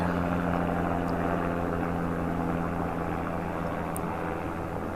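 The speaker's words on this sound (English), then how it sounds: "It's a forestry chopper, I do believe." A yellow forestry helicopter drones steadily overhead in the wilderness, its rotor and engine noise constant and moderately loud throughout, with no one talking.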